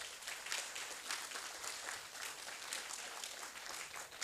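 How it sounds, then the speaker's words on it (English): An audience at a pupils' prototype pitching and judging event in Ghana gives a round of applause, dense sustained clapping heard from a moderate distance for several seconds. "a round of applause for yourselves"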